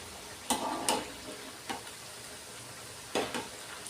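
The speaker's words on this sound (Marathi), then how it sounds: "दोन्ही साईडला आपल्या वड्या व्यवस्थित फ्राय होतील" Coriander fritters, kothimbir vadi, fry in a pan, with a soft steady sizzle broken by several sharp clinks and scrapes of a spatula as the pieces are turned; no voices.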